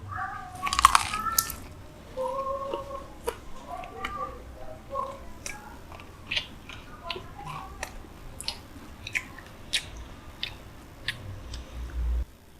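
Crunchy fried tempeh is bitten and chewed up close, giving sharp crisp crunches in a loose, irregular rhythm, louder at first and then quieter, over a faint background murmur.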